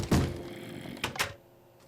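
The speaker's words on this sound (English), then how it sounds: "Why are you banging on that door, stupid zombie?" A Minecraft zombie banging on a wooden door, one heavy thunk followed by two quicker knocks about a second later, close and alone.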